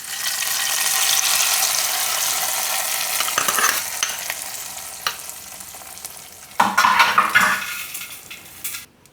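Hot tempering of garlic and green chillies poured over cooked urad dal, giving a steady sizzle with light stirring and utensil clinks, then a loud fresh burst of hissing near the end.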